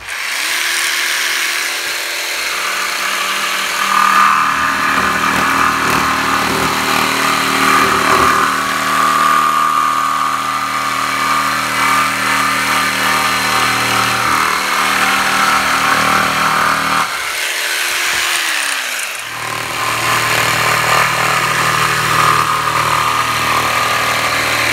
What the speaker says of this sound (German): darum schneiden wir das jetzt hier schnell mit der Stichsäge